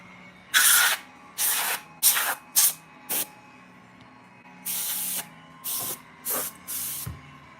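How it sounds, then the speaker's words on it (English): Can of compressed air fired in a series of short, sharp hissing bursts, about nine blasts of varying length with brief gaps between them, close and loud over a quiet room hum. "All right. Compressed air."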